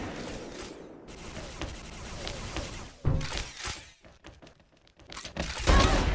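Gunfire and explosions in the shooter video game XSHOT, rapid crackling volleys and heavy thumping bursts that come and go, loud and near, with short lulls between.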